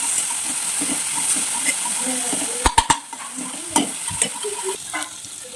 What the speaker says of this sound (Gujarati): આપણે લસણની કટાશ જાય ત્યાં સુધી બરાબર સાંતળી લેવાનું છે